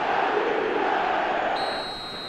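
A stadium crowd in a football video game keeps up a loud, continuous roar that eases slightly toward the end, with a thin high tone coming in over it.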